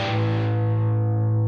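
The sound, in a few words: electric guitar distortion from playing hard through amp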